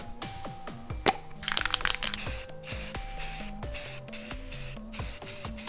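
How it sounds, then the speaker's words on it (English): A spray can lays light, even coats of filler primer on a replica MP5: several close hissing bursts, some short and some sustained, mixed with rattles and clicks of handling between sprays, no voices. "let's get to spraying this light, even coats, and let's just make this thing look good"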